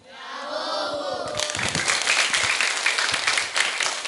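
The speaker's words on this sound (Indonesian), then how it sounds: "Sekali lagi berikan tepuk tangan." An audience at a children's storytelling event bursts into loud, sustained applause with some cheering, after a brief moment of voices and music before the clapping swells.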